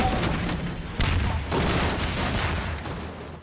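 Gunfire in the Half-Life 2 video game: dense, loud volleys of shots blur into a continuous barrage with sharper bursts near the start and around the one-second mark, lasting throughout with no voices.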